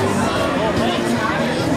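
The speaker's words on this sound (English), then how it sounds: "lots of cheering going on" Crowd noise at an outdoor holiday parade in Berwick and Somersworth, a steady murmur of chatter and scattered cheering from many people, with a voice speaking over the top throughout.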